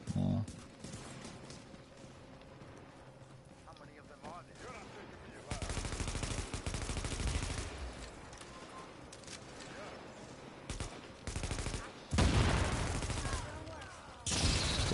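Gunfire from The Division 2 on PS4, with repeated bursts of rapid automatic shots and louder volleys breaking out over ongoing game sounds, close and punchy.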